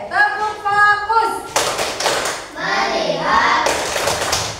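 A fifth-grade class claps a rhythmic 'tepuk fokus' routine, sharp bursts of hand claps and taps alternating with a teacher's voice and children chanting along.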